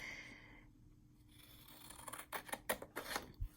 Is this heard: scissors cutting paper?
yes